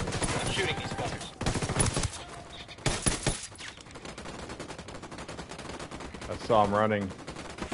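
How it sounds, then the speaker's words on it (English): Gunfire in the video game Ghost Recon Wildlands, with a couple of loud shot bursts under and between a man's speech, followed by more talk. "I'm shooting these fuckers."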